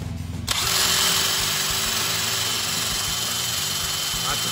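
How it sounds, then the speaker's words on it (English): Power drill with a steel bit boring out rivets on a Land Cruiser BJ60 rear chassis C-channel, starting abruptly and then whining steadily and loudly up close. "Lots of drilling, lots of drilling. Through all the rivets."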